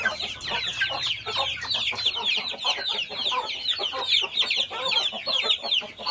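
Aseel breed chickens clucking in pens, with close, busy, overlapping clucks and squawks throughout and a low background hum at the start.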